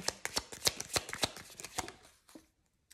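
Oracle cards shuffled by hand in quick, crisp riffling bursts for about two seconds, close and clear, then trailing off into near silence.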